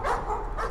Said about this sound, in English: I hear dogs.